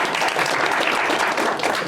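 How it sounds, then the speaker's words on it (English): Steady audience applause fills the room for a couple of seconds, dense clapping from many hands at close range with no talk over it. "Can we give a round of applause for our brave souls?"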